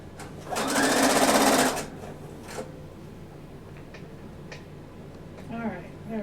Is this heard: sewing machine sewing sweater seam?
yes